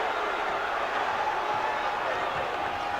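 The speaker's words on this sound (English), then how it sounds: "The crowd is into it." A basketball crowd at NC State, hosting third-ranked Duke in 2000, roars in a steady, unbroken arena din with no distinct peaks.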